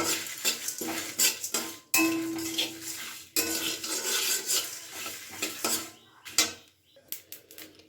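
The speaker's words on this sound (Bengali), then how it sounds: "এবার আমি শুকনো খোলাতে ভালো করে এটাকে ভেজে নিচ্ছি" Coriander, cumin and black pepper dry-roasting in a dry pan, tossed and scraped with a spatula, making close bursts of rattling, scraping and metallic clinks with brief pauses between strokes and a faint sizzle.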